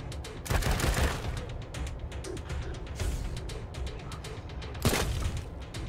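Gunfire in the Wasteland 3 video game: dense bursts of rapid automatic shots and heavy booming blasts crowd together in a sustained fusillade, with sharp loud spikes standing out near the start and again toward the end.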